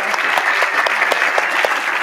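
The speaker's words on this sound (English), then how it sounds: "a round of applause for Miguel and Tran." An audience claps at a film screening before a Q&A with the filmmakers, brief, close, fairly sparse applause with distinct individual hand claps standing out over the steady patter.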